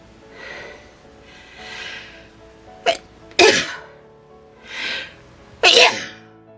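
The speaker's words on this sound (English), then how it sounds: "Oh, I had a sneezing fit." Several sharp sneezes in a row, each preceded by a quick inhaling gasp, close and loud, with quiet breathing between them.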